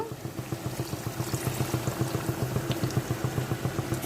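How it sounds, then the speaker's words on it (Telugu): Water pours into a farm chicken curry simmering over a charcoal stove, a close, steady gurgle with quick rhythmic bubbling pulses. "ఇప్పుడు వాటర్ వేసుకుందాము"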